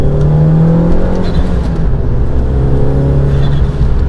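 A 1.4-litre Abarth 500 fitted with a big turbo revs steadily and loudly, its engine drone rising and settling close by, with no talk over it.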